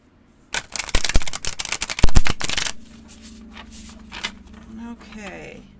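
An oversized tarot deck is riffled and shuffled in quick, crisp bursts of card flutter, followed by softer sliding and tapping as the cards are handled; a voice talks over part of it.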